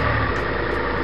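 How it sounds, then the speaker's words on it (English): Engine sound effect taken from a free sound library, a steady low rumbling idle running continuously and fairly loud, with no voices. "there is an engine sound, for example."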